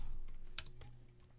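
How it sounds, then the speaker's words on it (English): A computer keyboard clicks in a few quiet, scattered keystrokes over a low steady hum, close and brief, with no talking. "we just start typing in"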